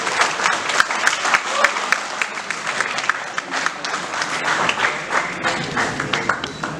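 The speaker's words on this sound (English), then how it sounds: "Please, a big round of applause for him." An audience at a panel discussion on criminal lawyers in popular culture breaks into sustained applause, dense overlapping claps with sharp individual hand strikes standing out, loud and steady for several seconds.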